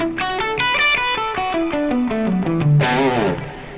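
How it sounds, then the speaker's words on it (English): A distorted electric guitar plays a pentatonic scale, its single notes stepping quickly downward in an even rhythm and ending on a ringing bend, loud and alone. "you probably know the pentatonic scale, which sounds like this."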